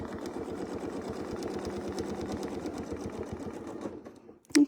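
A sewing machine stitches a quilt in a steady, rapid mechanical rhythm close by, then slows and stops, followed by a short sharp click.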